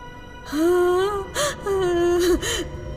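Someone cries in a horror story, a drawn-out wavering moan with sobbing breaths and catches, rising and falling over about two and a half seconds, close and fairly loud with no speech.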